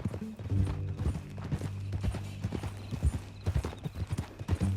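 A horse in the Red Dead Redemption 2 video game trots along, its hooves making a steady, rhythmic clip-clop over a low droning hum, moderately quiet and close.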